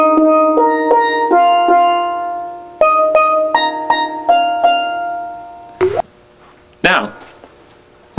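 A freshly tuned chrome-plated steel drum plays a clear, ringing melodic run of about a dozen struck notes, each blooming and fading, followed by two brief handling knocks or scrapes near the end.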